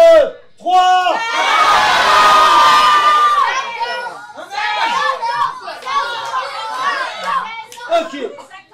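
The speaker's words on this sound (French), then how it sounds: "À 3, vous allez tous me gueuler un âge." A live improv theatre audience at a dinner show shouts out ages all at once in a loud, sustained burst of overlapping voices, then breaks into scattered chatter and calls.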